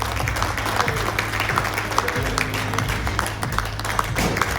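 An indoor audience claps continuously to welcome special guests at a health event, a dense, even wash of applause heard up close, with faint voices underneath.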